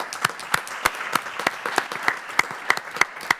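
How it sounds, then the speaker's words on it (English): A small group claps at a city council meeting: sparse, distinct hand claps in a loose, steady rhythm, fairly faint and with no talking over them. "maybe a round of applause for all three of those"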